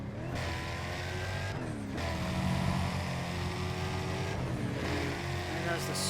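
A Subaru race car engine drones steadily at high revs in Need for Speed ProStreet on PlayStation 3, with brief dips at each gear shift. The engine stays loud and continuous throughout.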